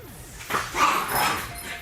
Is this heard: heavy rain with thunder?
no